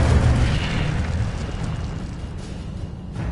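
Incendio fire spell cast in the Hogwarts Legacy video game, a loud whooshing burst of flame that roars up at once and then trails off into a softer rushing fade.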